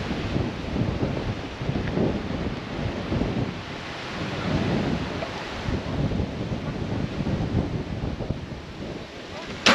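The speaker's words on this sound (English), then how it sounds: "It's quite far in, and it's windy as well." Strong wind gusts roar across an exposed shore at high tide in the Philippines, buffeting the microphone continuously, with a low rumbling undertone that could be surf.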